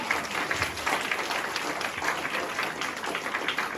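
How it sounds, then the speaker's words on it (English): A congregation at a New Year special church service claps loudly, dense and continuous applause that fills the room steadily for several seconds, with no voices over it. "A loud clap of glory to the Lord."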